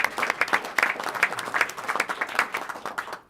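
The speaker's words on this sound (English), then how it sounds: "want to thank Miguel Santiago for acknowledging the applause line" Steady applause from a crowd, dense hand clapping with slight swells in intensity, continuing throughout before fading at the end.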